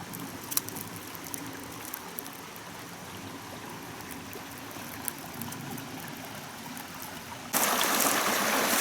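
Shallow creek water flowing and trickling steadily over rocks outdoors, a continuous babble that turns suddenly louder and closer near the end.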